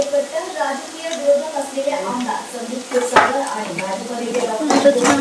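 Potato bhaji being stirred in a pan with a spoon, a gentle sizzle under irregular scraping and clinks of metal against the pan, close up, while a voice talks over it.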